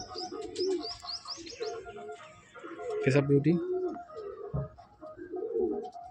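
Pigeons in a Madrasi pigeon loft give soft coos and chirps throughout, moderately close, while someone speaks over them intermittently.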